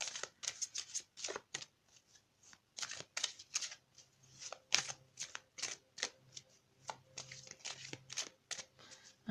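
Tarot cards are shuffled close up in a quiet room, a string of quick riffling and slapping bursts that come in uneven rhythm with short gaps between them, crisp and fairly soft.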